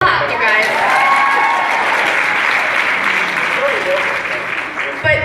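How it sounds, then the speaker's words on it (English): Sustained audience applause with some cheering at a Q&A event with the Philly Phusion players, dense clapping filling the room at steady loudness, with voices mixed in. "Give him a clap"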